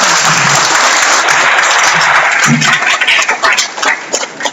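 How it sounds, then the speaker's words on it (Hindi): Loud, enthusiastic applause from a crowd at a unit meeting fills the room with dense clapping that holds strong, then thins and breaks into scattered claps toward the end. "अगर आप मेरी बात से सहमत हैं तो एक बार जोरदार ताली बजाएं।"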